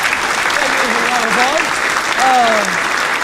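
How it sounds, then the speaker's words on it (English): A crowd clapping steadily throughout at an end-of-year Christmas concert, with a voice speaking over the applause. "Thank you very much for the round of applause"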